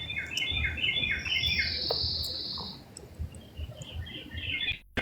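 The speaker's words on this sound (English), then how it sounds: "I can't stop the birds." Several birds chirp and trill close by in quick overlapping bursts, with a long high whistle in the middle and a low rumble underneath.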